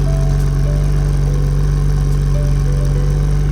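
A Datsun 240Z engine idles steadily and close by, a loud, even low rumble with a faint rhythmic clatter and no breaks.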